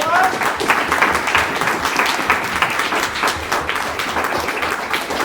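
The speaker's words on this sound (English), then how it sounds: "Round of applause for Amelia, please, everyone." A school audience at a Year 6 leavers presentation claps loudly and continuously for several seconds, a busy, close patter of many hands with a little chatter underneath.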